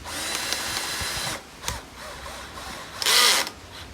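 A power drill drives the last screw into a John Deere LT166 riding mower under repair, with short close whirring bursts separated by pauses and a final louder spin near the end.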